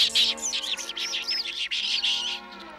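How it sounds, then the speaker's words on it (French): Small cartoon bird in a Smurfs episode chirps in a continuous run of bright, high warbling tweets, close and clear, with no talking. "Tiens, bonjour, madame l'oiseau."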